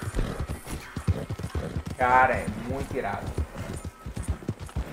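Horse hooves clip-clop in a steady, quick rhythm in the video game Red Dead Redemption 2, with a brief whinny partway through, heard under someone talking excitedly.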